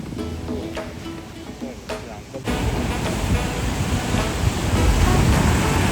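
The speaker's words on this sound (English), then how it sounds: "So we have reached the Kandolim beach." Ocean surf rolling onto Candolim Beach in Goa, a steady broadband wash of breaking waves that swells louder in the second half, with some wind buffeting the microphone and faint voices earlier on.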